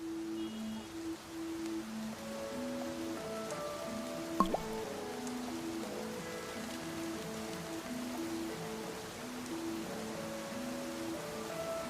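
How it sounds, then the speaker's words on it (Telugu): Steady rain falls outdoors as a soft, continuous hiss throughout, with a gentle melodic tune playing over it and one brief louder tap partway through. "వర్షం వస్తుంది."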